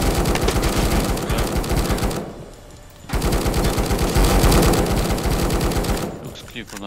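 Rapid automatic gunfire rings out in the co-op VR zombie shooter Death Harvest VR, with dense bursts that drop away briefly around the two-second mark and then resume loud and sustained.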